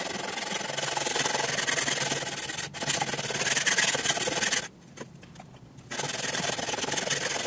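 Stainless steel guitar frets being leveled with a leveling beam, giving a steady, close abrasive rasping and rubbing, continuous apart from a short drop near three seconds and a quieter stretch before it resumes strongly.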